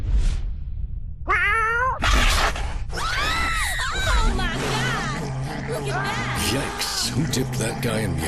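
Several cats meow and caterwaul in a rapid series of loud, drawn-out cries, one after another, with murmuring voices and babble underneath.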